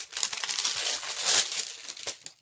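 Close-up crinkling of plastic wrapping, a continuous crackly rustle with a few sharper crunches as it is handled.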